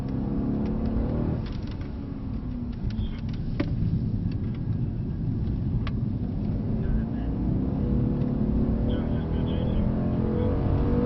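A Mercedes-Benz C63 AMG with a turbocharged engine rumbles steadily as it drives around a track, a loud, continuous low engine drone heard from inside the cabin under occasional talk.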